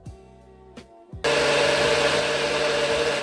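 A blender mixing a berry smoothie: after a quiet moment with a few knocks, the motor kicks in abruptly into a loud, steady whirring roar that continues to the end.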